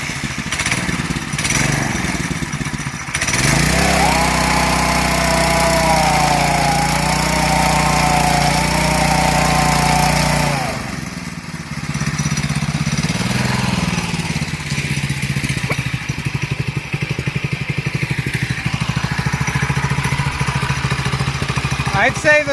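A DuroMax XP7HPE 208cc mini bike engine cranks on its electric starter, catches and runs loudly and steadily, its pitch wavering as it is revved before dropping, then idles and runs on with a rough, uneven drone.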